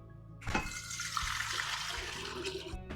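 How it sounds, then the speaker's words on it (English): A steady rush of water pours into a stand mixer bowl, close by, starting abruptly and continuing for a few seconds before tapering off. "So we're gonna put 6 cups of water in our standing mixer."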